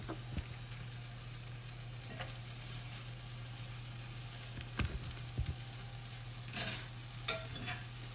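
Cheesesteak meat sizzles quietly in a pan as it finishes cooking, a soft steady fry with a low hum underneath and a few faint clinks and knocks.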